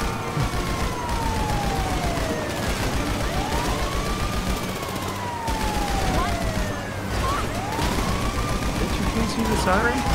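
A police siren in GTA 5 rises and falls in repeated wails through the whole stretch, loud and continuous, layered over dense game noise of gunfire and traffic.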